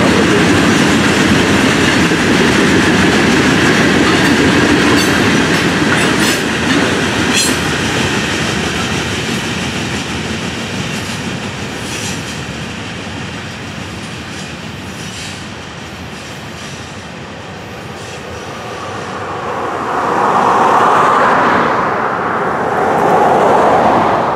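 A Florida East Coast Railway train rumbles past on the tracks, loud and steady, with rhythmic wheel clatter and a rising roar near the end, no voices.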